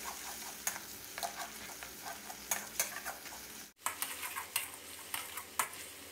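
Chili, garlic and shrimp paste sauce is stir-fried over medium-low heat, a continuous sizzle punctuated by repeated clinks and scrapes of a spatula on the pan, with a brief cut midway.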